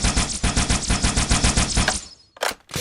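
A projectile weapon in the Halo video game fires a loud, rapid automatic burst of about two seconds, followed after a short pause by two more quick shots.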